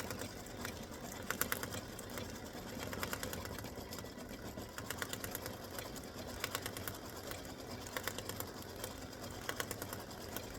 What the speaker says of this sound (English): color stock number 2 stitches this design right here